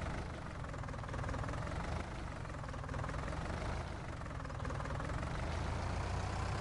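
A tractor engine in Farming Simulator 19, running as a steady low, heavy drone with a faint knocking vibration, unchanging and moderately quiet with no other sounds.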